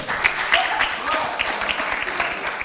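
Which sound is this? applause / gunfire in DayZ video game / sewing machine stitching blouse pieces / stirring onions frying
applause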